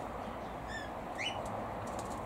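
Red-rumped parrots, a grass parrot species, give a few quick, faint chirps in an aviary over a steady background hiss, with no voices present.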